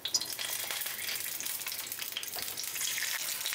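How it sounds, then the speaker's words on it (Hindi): Eggs frying in a spoonful of oil in a pan with onions, a close, bright sizzle that starts with a crackling burst and holds steady without talk. "अब हम अंडों को डाल के फ्राई करेंगे।"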